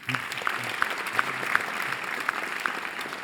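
Audience applauding an artist at a 2024-25 theatre season presentation, steady dense clapping from a crowd with a few sharper nearby claps standing out, while a faint voice murmurs underneath.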